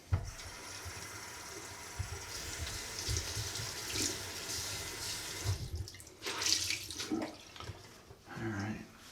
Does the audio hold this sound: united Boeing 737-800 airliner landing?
no